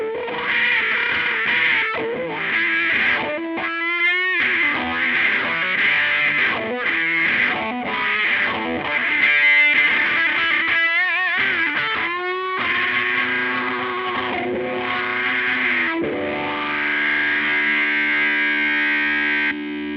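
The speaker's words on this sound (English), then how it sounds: "This one does an amazing job, especially with like delay and reverb and modulation effects" Electric guitar played through a TC Electronic Nova System multi-effects unit with delay, reverb and modulation, giving sustained, shimmering, echoing single notes and bends, loud and continuous with no talking.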